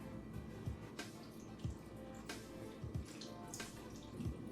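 Marinade is poured and dribbled over vegetable kebabs with carrots, giving faint liquid trickles and soft intermittent splatters and drips close by.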